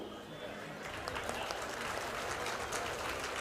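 An audience at a Congress party gathering in Mysuru, marking the groundbreaking of a Congress Bhavan, claps in a continuous, fairly faint wash that swells slightly as it goes on.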